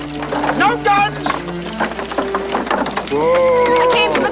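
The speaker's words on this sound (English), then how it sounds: "We wanted the horses, Ivar?" Horses clip-clopping along a rough road in a period drama, their hooves close and clear beneath overlapping voices and a brief whinny-like cry.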